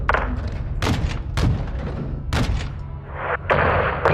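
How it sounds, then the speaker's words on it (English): Small arms fire coming from a gas station in the Call of Duty MW2 campaign: several heavy, punchy gunshots and thuds at irregular intervals, loud and close, mixed with battle noise and a short burst of noise at the end. "Seeing small arms fire from the gas station"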